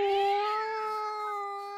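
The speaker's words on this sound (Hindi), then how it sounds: "हाँ दो दो ब्लैक कैट घूम रही है" A black cat in the Minecraft video game lets out a single loud, drawn-out meow that fades slowly, close and alone with no other sound.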